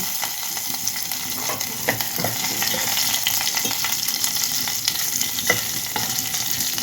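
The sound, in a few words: lentils and spices frying in oil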